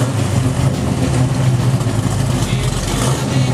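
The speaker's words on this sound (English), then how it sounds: "I'm going to start the Camaro up so you can hear it." A 1968 Chevrolet Camaro engine runs at idle with a loud, steady, deep exhaust rumble, close and continuous with no pauses.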